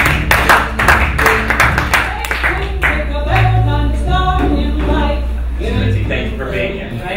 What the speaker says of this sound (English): Please, round of applause for Oklahoma Representative Mike Ritzie